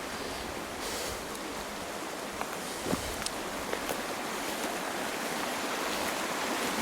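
Water in a stream flows with a steady broadband rush, close and constant, with a few small splashes and clicks over it and no voices.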